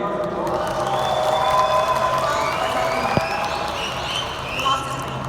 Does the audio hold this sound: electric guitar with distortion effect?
no